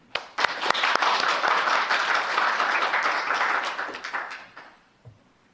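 An audience at a research presentation applauds to welcome a speaker, a dense sustained patter of many hands that swells quickly, holds for several seconds, then fades out to near silence.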